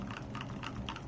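Typing on a Redragon K552 mechanical keyboard fitted with lubed Outemu Ice Purple switches, a steady run of close, muted thocky keystrokes at an even quick rhythm, heard alone.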